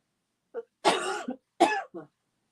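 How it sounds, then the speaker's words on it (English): A person coughs in a quiet studio room, a few close, sharp coughs in two quick bursts with small throat-clearing sounds between, no talking. "I am so out of it with this cough"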